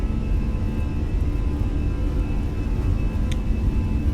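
Steady loud roar of airliner jet engines at takeoff thrust on the runway in a flight simulator game, a continuous broadband rumble with a faint whine and no talking.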